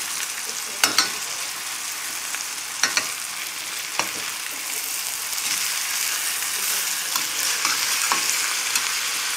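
Pork chops crusted with corn meal and caraway fry in a pan with a steady, close sizzle, broken by a few sharp clanks and scrapes as they are turned and stirred.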